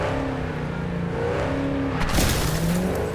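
A weaponized car engine in Cyberpunk 2077 drones loudly and close, its pitch sliding up through successive gears as it accelerates, ending in a harsh burst of noise, likely with the rear wheels struggling for traction.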